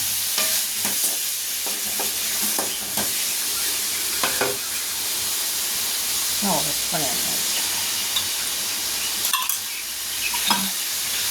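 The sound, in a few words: onions sautéing in a pan for mutton curry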